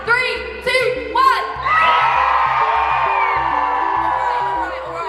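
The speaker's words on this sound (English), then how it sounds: "on 3, you're going to scream as loud as you can" A large convention audience in London lets out a sustained, full-volume scream after a few whoops and shouts, the roar of many voices holding loud and steady for several seconds.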